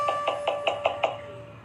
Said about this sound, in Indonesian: lalu berjalan ke arah pintu kosan Sarah dan mengetuknya